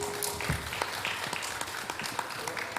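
Modest applause from a small audience at a beginner-category spelling bee, scattered clapping heard from some distance at fairly low volume, with a faint murmur of voices beneath it.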